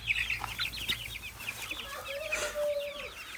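Backyard coop chickens, including Australorp, Adler and Cochin hens with a rooster, cluck and squawk close by in quick overlapping calls, with a brief drawn-out note near the end.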